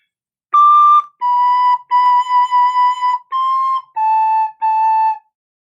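A recorder plays a line of "Lightly Row", seven clear separate notes with short gaps between them, close and steady, with no voice.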